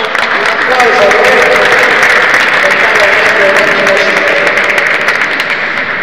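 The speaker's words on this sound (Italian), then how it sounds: "un applauso a lei" A cultural strategy event in Capitanata, where an audience gives loud, sustained applause for a mayor, a thick, steady roar of many hands clapping close by that holds for several seconds, with no voice over it.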